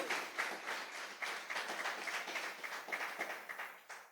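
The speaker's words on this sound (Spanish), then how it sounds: "Dele ese aplauso al Rey." A church congregation applauds during a sermon, a fairly faint, sustained wash of many hands clapping in an even rhythm, heard from a distance.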